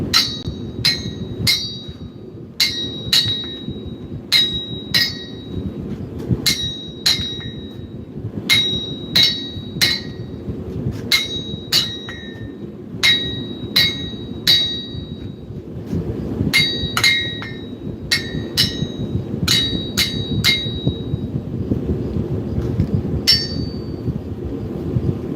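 Repeated metallic clanks of hammer on anvil from smithing in the video game Knightsmith, sharp bright strikes in irregular bursts over a low background hum, with no talking.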